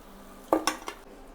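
Crisp fried samosas are lifted out and set onto a plate, giving three quick clinks and scrapes of a utensil against cookware, close up in a quiet kitchen.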